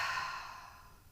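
A single slow exhalation during evening relaxation stretches while lying on the floor: a soft, breathy sigh that starts clearly and fades gradually over about a second, with nothing else around it.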